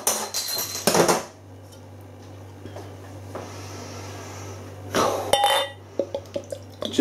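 An Omnipollo Fatamorgana imperial India pale ale opened and poured into a glass: sharp clinks and rattles at the start, a quiet stretch of faint liquid flow over a steady hum, then more glassy knocks and taps close by.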